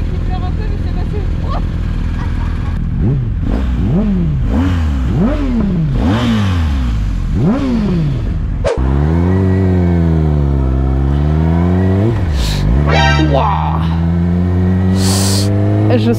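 A Yamaha R6 sport motorcycle engine revs hard in repeated rising bursts, then shifts up and pulls steadily through higher gears, loud and close with a voice over it.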